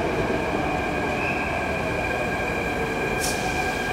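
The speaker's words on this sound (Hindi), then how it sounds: "ये आ गई जी मेट्रो।" A metro train pulls into a station platform, a steady loud rumble with sustained tonal wheel and motor whine and a brief hiss near the end.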